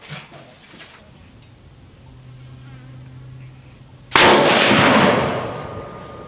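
A Ruger Scout .308 rifle fires one sharp, loud shot near the end, its crack decaying into a long rumbling tail after several seconds of faint outdoor buzzing ambience.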